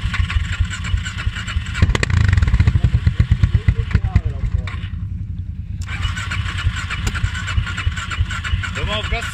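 Vehicle engine revved hard at night in an excavator park, throbbing loud bursts and rapid pulsing exhaust beats up close, briefly dropping then resuming, with people talking over it.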